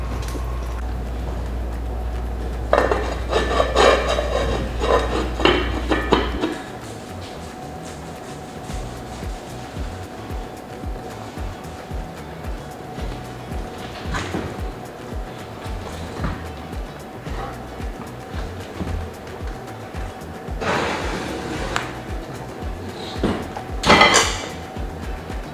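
A lid and pot clatter during braising of beef short ribs bound for a smoker, with metallic scraping, clanks and knocks that come and go over a steady low hum, plus a few sharper bangs near the end.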